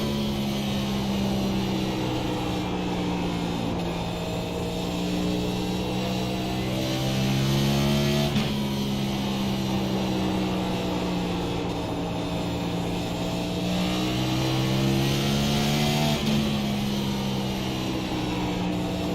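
Several race car engines roar continuously around the short Bristol oval in the iRacing sim during an eNASCAR qualifying series race, with pitch rising and falling as the cars sweep through the banked turns.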